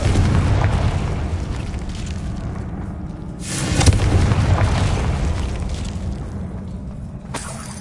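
A Confringo spell explodes in Hogwarts Legacy, one deep boom bursting out of a steady low rumble and then fading, with a smaller crack near the end.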